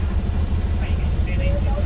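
Steady engine hum and road rumble come from heavy traffic of cars and motorcycles on a road near Malvan heading to Tsunami Island, a continuous mid-level wash of vehicle noise.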